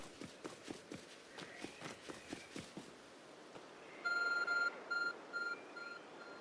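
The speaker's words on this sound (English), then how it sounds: "There's a glowing, beeping object over there." Game beeps from a glowing object in a Pokemon video game, a short run of bright electronic tones in bursts after a stretch of rhythmic footsteps, fairly clear and close.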